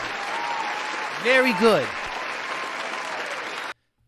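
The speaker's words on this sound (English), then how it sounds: "Please tell me I have applause." Applause sound effect: steady, dense clapping that fills the clip, with a voice speaking briefly over it midway before the clapping cuts off abruptly.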